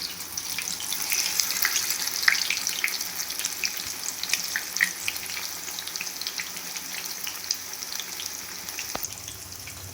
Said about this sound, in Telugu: ఇలా ఆయిల్లో మనకు కావాల్సిన షేప్లో డీప్ ఫ్రై చేసుకోవాలండి.